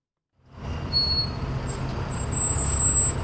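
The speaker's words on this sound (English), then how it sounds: "This is the 376 service which pulls into Wells bus station every day" A 376 double-decker bus pulls into Wells bus station with a steady low engine rumble that fades up after a brief silence, and faint high brake hiss sits above it.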